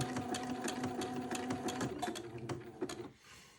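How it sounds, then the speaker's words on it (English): A sewing machine zigzag-stitches Moline lace onto a wide Swiss insertion, its needle hammering in a fast, even mechanical rhythm close by before stopping abruptly near the end. "I'm going to slowly start zigzagging a piece of Moline lace to one side of my wide Swiss insertion"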